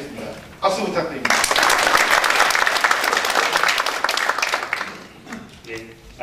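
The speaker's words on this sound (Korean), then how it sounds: "박수 부탁드립니다" Audience applause at a Korean public forum on the National Pension fund's management headquarters and North Jeolla's finance industry, before a vice minister's congratulatory address; dense clapping swells after a brief pause, holds steadily, then fades out toward the end.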